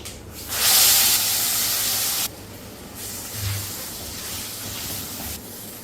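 Loud sizzling hiss as a flour batter mixture hits hot oil in a pan, a strong burst for a couple of seconds, then a quieter steady frying crackle continuing.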